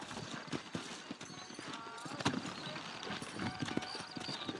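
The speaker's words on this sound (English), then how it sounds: "You ain't gonna find sturdier horses than these in all of New Ulster." Horse hooves clip-clop steadily in the Red Dead Redemption video game, a brisk rhythmic stream of hoof strikes over a busy town ambience, with talk running underneath.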